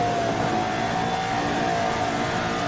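A Formula 79 race car in a sim racing game at Mugello drones steadily at high revs, a constant buzzing engine tone with slight pitch drift and no talking.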